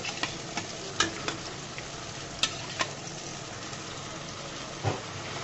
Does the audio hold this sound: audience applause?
no